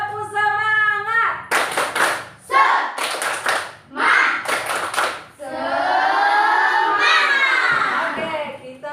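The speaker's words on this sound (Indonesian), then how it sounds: "Tepuk semangat." A group claps in rhythmic bursts during an icebreaker clapping chant, with loud sharp clusters of claps between stretches of voices chanting and shouting together.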